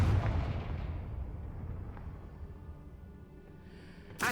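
Confringo explosion spell cast in the video game Hogwarts Legacy: a loud, booming blast up front whose rumble slowly decays over several seconds, ending in a short sharp burst.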